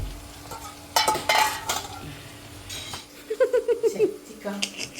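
Fish frying in a pan in a home kitchen, with a soft sizzle under sharp clinks and scrapes of a utensil against the pan, including a quick rhythmic run of taps; voices talk briefly nearby.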